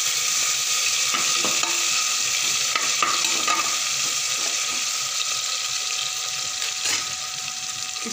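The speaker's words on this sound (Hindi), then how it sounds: "इसको हम थोड़ा सा भूनेंगे।" Spices and ginger sizzle steadily in hot oil for a tadka while a utensil scrapes and stirs the pan now and then, no voices, a constant bright crackle throughout.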